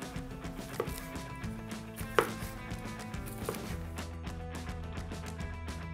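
Knife chopping smoked sausages into small rounds on a board, a series of quiet, close, sharp taps at an irregular pace with a few louder cuts, no talking.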